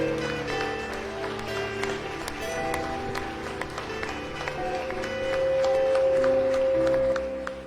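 A church congregation at a family worship service claps together, a steady wash of applause lasting several seconds that swells louder toward the end, with faint music or voices underneath.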